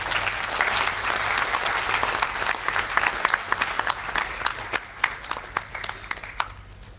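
An audience applauds at the inauguration session of the ICCDC 2023 conference as a guest is escorted to the dais, a dense, steady wash of clapping close by that thins and fades toward the end.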